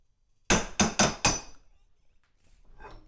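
A Hart Tools Made in Taiwan pass-thru ratchet is loaded to failure in a torque test, giving four sharp, loud metallic cracks in quick succession, then quiet.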